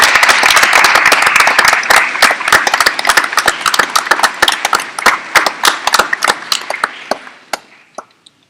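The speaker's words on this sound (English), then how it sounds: "Students, please join me in giving your parents and family members a warm round of applause this morning." Middle school students at a final assembly give a warm round of applause for parents and family, dense clapping that thins into scattered individual claps before dying away.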